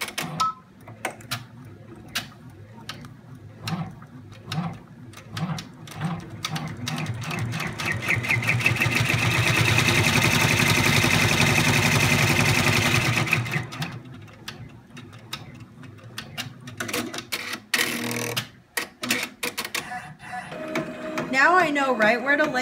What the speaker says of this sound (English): now I'm going to run the placement stitch for my pocket